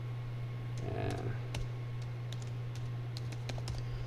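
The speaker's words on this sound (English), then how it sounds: "Sorry if my typing's a little slow." Someone types on a computer keyboard while setting up a new WordPress install, giving an uneven run of soft clicking keystrokes over a low steady hum, with a brief bit of speech near the start.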